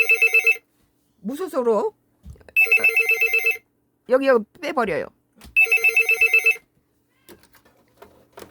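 A telephone rings in three loud, bright, buzzing bursts during a political commentary broadcast, with a man's speech in the gaps between the rings.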